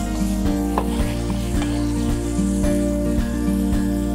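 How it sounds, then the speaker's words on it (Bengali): Chicken with monkey jackfruit sizzles loudly in a pan while a spatula scrapes and stirs it in regular strokes about twice a second. The frying hiss stays close and dense throughout. "এইবার পুরো ব্যাপারটা একসঙ্গে কষতে হবে।"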